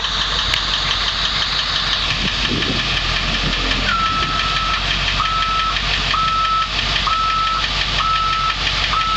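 A 2002 International Thomas school bus with a Ford 7.3L Powerstroke turbo diesel idles loudly with a knocking rumble as it goes into reverse, and a repeating backup beeper starts partway through and pulses steadily over the engine.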